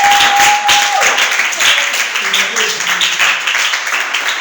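A church congregation applauds in a loud, sustained wash of clapping, with a preacher's voice heard over it and a brief sustained tone near the start.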